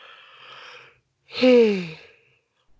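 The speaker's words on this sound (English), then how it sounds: "had to get my obligatory yawn out of the way on the pod" A single drawn-out human yawn, starting with a soft breathy stretch and swelling into a loud, rising-then-falling voiced groan close to the microphone, ending with a brief click.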